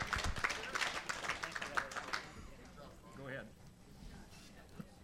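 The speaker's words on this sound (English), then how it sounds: "How about a round of applause for Carl?" Audience at a charity class auction claps for a buyer, a short burst of scattered applause that fades after about two seconds, followed by the auctioneer talking.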